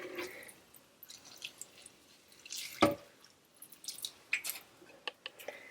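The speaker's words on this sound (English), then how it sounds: "so now we're just gonna water this one" Water is poured into a potted houseplant, giving faint irregular drips, trickles and soft wet squishes of soaking soil, with one sharper splash near the middle.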